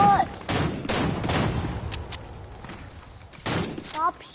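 Gunfire in the video game Fortnite: several loud bursts of shots in quick clusters, close and sharp, separated by short pauses, with a voice briefly audible at the edges.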